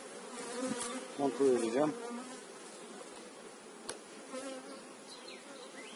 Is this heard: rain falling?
no